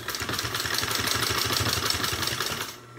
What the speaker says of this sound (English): I'm going to sew a second row of stitching.